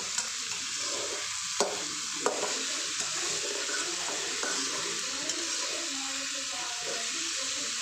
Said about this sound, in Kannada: ನಾನು ಇವಾಗ ಮಿಕ್ಸ್ ಮಾಡುವೆ